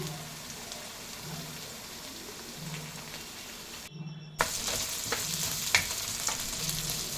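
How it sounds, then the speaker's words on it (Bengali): Chopped garlic fries in a pan over browned onion, a steady quiet sizzle with light scraping and stirring, a brief dropout midway, then a louder crackle with a few sharp pops. "হালকা বাদামি হলে তার মধ্যে ধীরে ধীরে অ্যাড করব রসুন কুচি,"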